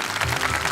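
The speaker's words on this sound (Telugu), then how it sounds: "చప్పట్లు" A crowd at an inter-college dance competition gives a brief, dense wash of applause that lasts under a second.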